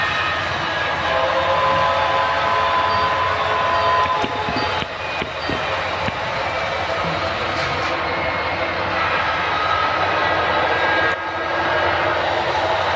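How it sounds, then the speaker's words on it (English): A GP9 locomotive on a model railroad rolls around behind a passenger train, giving a steady, continuous rumble and rail noise at close range that holds at an even level throughout, with no talking. "And then we've got GP9 coming around behind the passenger train"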